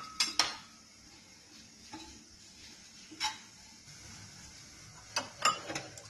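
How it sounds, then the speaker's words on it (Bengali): Oats dry roasted in a pan: quiet, sparse clinks and scrapes of a spoon against metal, with a few sharper knocks and near-silent gaps between strokes. "আমরা ওটটাকে ড্রাই রোস্ট করে নেব"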